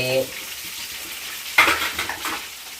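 Garlic cloves frying in a hot pan, a sudden burst of sizzle after a brief quiet stretch, followed by a few softer scraping stirs, close and fairly loud.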